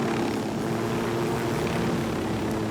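A helicopter in Ghost Recon Wildlands, a constant loud engine and rotor drone that holds steady and close with no talk over it.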